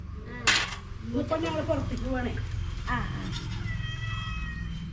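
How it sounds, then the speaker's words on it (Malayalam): A cat meows several times, drawn-out and fairly close, with faint clinks of dishes and a murmur of background activity. "പൂച്ച കരയണ്ടല്ലേ"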